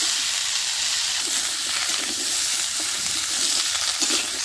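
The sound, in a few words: bottle gourd added to hot fish-frying oil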